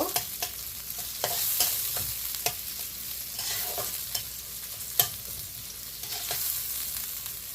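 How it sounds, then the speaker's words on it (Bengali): Onion frying in a pan for gourd and shrimp curry sizzles softly and steadily, broken by regular scraping stirs and an occasional sharper tap of the spatula, fairly quiet with no voices. "পেঁয়াজটা একটু লাল লাল করে ভেজে নিব।"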